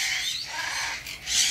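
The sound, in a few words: bird squawking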